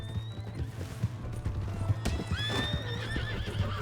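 Horse in Red Dead Redemption 2, hooves clip-clopping steadily and close while the animal neighs loudly partway through, with brief voices and game sounds around it.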